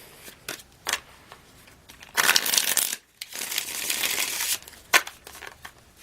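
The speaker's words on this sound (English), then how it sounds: "A couple more shuffles." A deck of tarot cards is shuffled by hand: a few soft riffles, then two longer bursts of rapid fluttering card slaps with short pauses between, close and clear, no talk.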